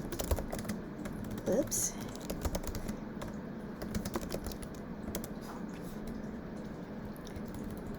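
Keys clatter in quick, irregular bursts on a computer keyboard as someone types in a name, steady and fairly close, with a brief spoken exclamation partway through.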